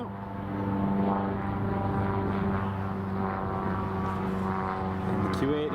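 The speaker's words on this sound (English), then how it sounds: "the King Air is just lining up on the runway now" A King Air turboprop lining up on an airport runway gives a steady, droning propeller hum with layered tones that holds at an even level throughout, slightly distant.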